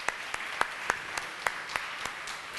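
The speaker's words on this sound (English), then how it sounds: "I'm pretty sure they deserved a louder round of applause" Faint, sparse applause from an audience at a book launch event honoring a young Kathak dancer, with individual claps spaced at a steady, slow rhythm rather than a full ovation.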